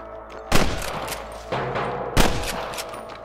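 Gunfire in the Red Dead Redemption game, with two loud, sharp shots about 1.7 seconds apart, each trailing into a rumbling echo, and a softer burst between them over constant background rumble.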